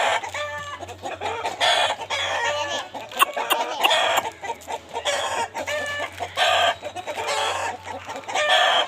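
A one-year-old rooster clucks repeatedly at close range in short, uneven bursts, with a faint low hum underneath.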